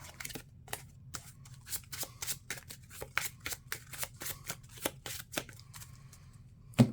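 Marvel Champions game cards are shuffled in quick, crisp riffling bursts, close and fairly quiet, with no talk over them.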